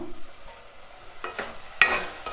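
Spices and mango pieces frying in a pan for pappu charu, a soft low sizzle with scraping stirs, then a few louder bursts of spatter and clatter near the end.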